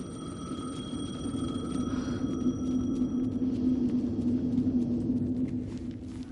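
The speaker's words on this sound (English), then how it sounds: "The phone again." A telephone rings in the video game Alan Wake 2, a steady electronic trill over a low droning rumble, continuous and moderately loud throughout with no talk.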